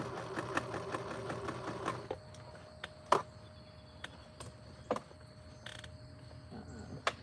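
A sewing machine stitches an upcycled denim jacket, whirring rapidly for about two seconds before stopping, followed by scattered clicks and handling knocks.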